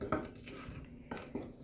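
A spoon scrapes and clinks against a bowl as apple fritter batter with cinnamon is stirred, giving three or four quick, close knocks over a short stretch.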